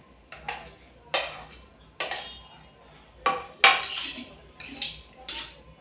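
Spoon clinks and taps against a bowl as spinach salad ingredients like tomato, oil and lemongrass are mixed, a series of sharp, fairly close strikes at an irregular rhythm.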